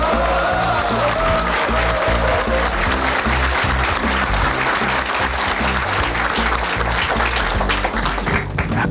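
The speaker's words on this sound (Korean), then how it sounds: "끝났다 싶어 좋아라 박수 쳤지." Audience applause at a presidential address, sustained dense clapping from a large crowd, loud and steady throughout.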